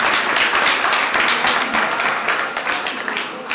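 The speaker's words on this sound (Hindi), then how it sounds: "एक बार उसके लिए ताली बजाओ, बहुत भक्ति है उसकी।" Audience applause at a Jain religious discourse on Tirthankar Mahavir, dense steady clapping from a large crowd filling the hall, loud and sustained before tapering slightly near the end.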